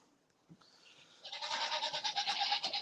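After a quiet start, goats break into loud, quavering bleats close by, overlapping cries that grow stronger and keep going.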